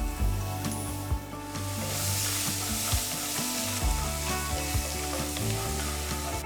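Chopped green chilies and finely chopped ginger sizzle in a pan over reduced flame for a lemon vermicelli upma, a steady close frying hiss with occasional stirring clinks and scrapes.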